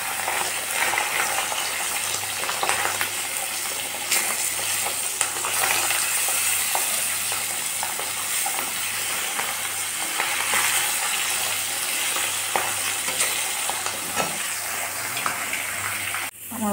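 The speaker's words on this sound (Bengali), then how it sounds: "তিনটা মাছ আমি দিয়ে দিলাম। এখন ওই মাছগুলো ভালো করে ভেজে নেব।" Three pabda fish fry in hot oil in a pan, giving a continuous, even sizzle with occasional crackles and light stirring, heard close and alone.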